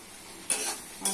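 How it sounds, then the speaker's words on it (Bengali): Potatoes and tomatoes are stirred and dry-fried in a pan, with two quick spatula scrapes over a soft, steady sizzle. "আলু টমেটো শুকনো হয়ে গেছে, কষিয়ে নিচ্ছি"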